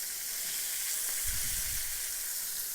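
Chicken pieces fry in hot oil with a steady, loud sizzle and hiss, swelling briefly as another piece is handled in the pan.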